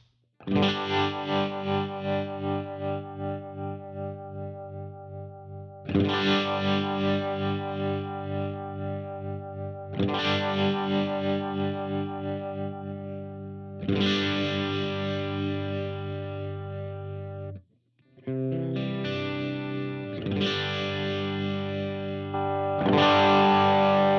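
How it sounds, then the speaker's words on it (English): Electric guitar run through a Helix 60s bias tremolo set to stereo, strummed chords ringing out one after another, each swelling and pulsing with a rhythmic wavering throb, played alone with no talk. "let's go old school with it and use the 60s bias trem, but let's set that on stereo"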